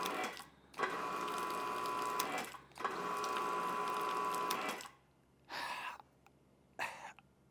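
An Adams Polishes electric pressure washer runs in two steady, fairly quiet bursts with a soft motor whine, separated by short pauses, then only brief clicks and bumps.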